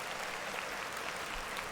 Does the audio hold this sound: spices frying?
no